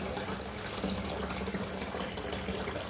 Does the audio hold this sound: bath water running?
yes